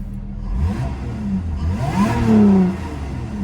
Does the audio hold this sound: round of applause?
no